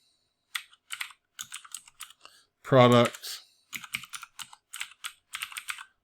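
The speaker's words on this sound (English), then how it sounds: "And of course, typing it in," Computer keyboard typing in bursts of quick keystrokes spread across the stretch, fairly close, with someone speaking briefly in the middle.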